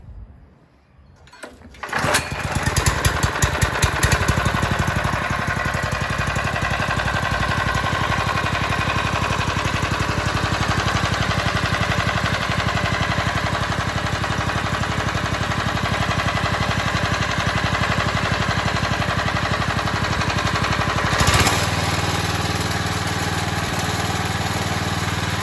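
A Lifan 4hp engine fitted to a Scott Bonnar cylinder mower is pulled into life and then runs at a steady, even drone, loud and close, holding the same pitch for over twenty seconds.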